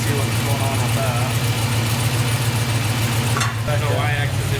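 A K5 Blazer engine idles slightly high with a steady low rumble throughout, close and continuous, while people talk briefly over it.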